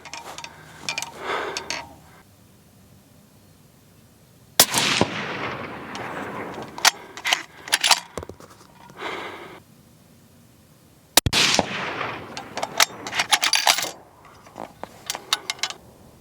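6.5 rifle fired during powder charge testing at an outdoor range, two loud sharp shots several seconds apart, each followed by a long rolling echo, with faint ticking and handling noises between them.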